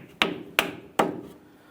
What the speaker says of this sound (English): We'll align this, use a rubber mallet to drive it into place.